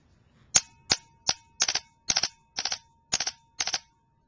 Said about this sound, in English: Now it's going to be on 3-round burst.